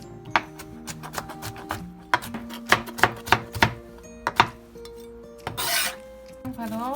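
Knife strikes on a cutting board, a run of sharp chops with uneven rhythm, then a brief rasping scrape near the end; no talking.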